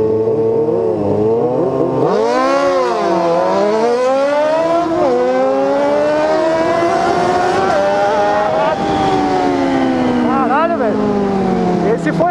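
A Honda Hornet and other sport motorcycles accelerating hard on the road, with loud engines screaming through repeated rising rev sweeps and gear changes, sustained and close throughout.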